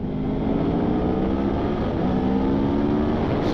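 An Aprilia Tuono V4 1100 Factory 2021 motorcycle in city mode accelerates with a loud, steady, throaty engine roar close up, its pitch climbing slightly over a few seconds, with no talking.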